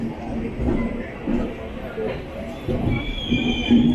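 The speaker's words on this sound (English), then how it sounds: "That is the Trichy Trivandrum Intercity Express." Trichy Trivandrum Intercity Express train passing with a steady rumble of rolling wheels and a faint high squeal, while a person talks over it.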